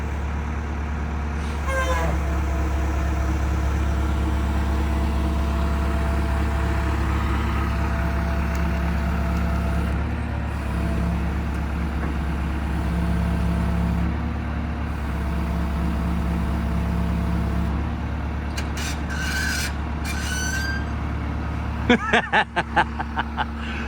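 A 1973 Jeep engine runs steadily throughout as a loud, continuous low rumble, with brief rattling bursts near the end and occasional background sounds over it.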